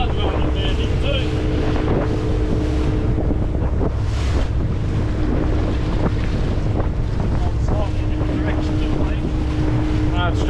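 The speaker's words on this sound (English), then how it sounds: "It's a bit windy." Strong wind buffets the microphone in loud, rumbling gusts throughout on a lobster fishing boat at sea, over a low motor drone and splashing water, with occasional voices.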